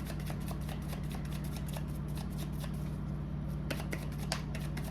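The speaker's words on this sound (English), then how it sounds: "I'm going to go ahead and shuffle these." Tarot cards shuffled by hand, a run of quick crisp riffling snaps and flicks, close and clear over a low steady background hum.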